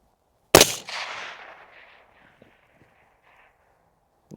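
Rifle firing 73 grain Berger ammunition, one sharp loud shot with a decaying echo, then a second shot at the very end, and only faint sounds in between.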